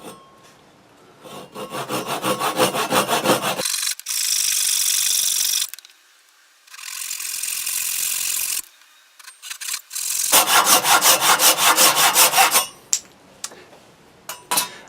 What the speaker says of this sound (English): It's a really nice sort of fine-toothed saw